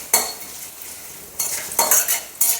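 Panch phoron, heavy on fennel, and chilli pieces frying in hot mustard oil, heard as several loud bursts of crackling sizzle and stirring scrapes with short quiet gaps between them.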